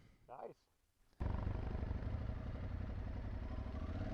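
Aprilia Tuareg 660 motorcycle engine rumbling in second gear near idle at about 10 mph, a steady loud low drone with road and wind noise that cuts in after a brief voice at the start.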